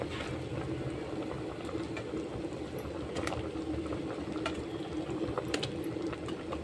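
Egg sambar boils steadily in a pot with a soft, continuous bubbling and occasional small pops, heard faintly and alone.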